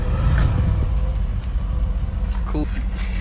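A Mercedes-AMG GT convertible with a biturbo V8 and double exhaust idles and revs nearby, a loud deep rumble that swells briefly at the start and holds steady, with voices heard over it.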